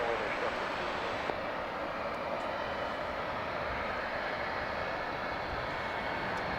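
A jet airliner taking off from runway 18 Left at DFW International Airport in Dallas, a steady broad roar holding level throughout, with faint talk barely audible beneath it.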